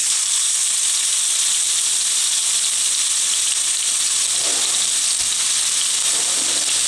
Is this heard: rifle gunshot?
no